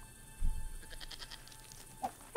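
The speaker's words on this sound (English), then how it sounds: "Let the goat eat it." A goat bleats in the adventure game Broken Sword 5: The Serpent's Curse, a few short wavering calls set against quiet ambient game sound, with a brief low thump early on.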